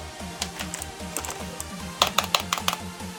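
Keys clack on a Gamdias Hermes E1 gaming keyboard, a close run of quick irregular keystrokes that thickens into a denser burst of sharp clicks midway, over a low rhythmic hum.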